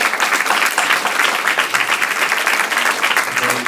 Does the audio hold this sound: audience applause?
yes